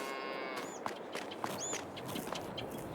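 Calves in a Farming Simulator 22 cow barn give a few short moos over a steady ambient farm background, with faint footsteps and no talking.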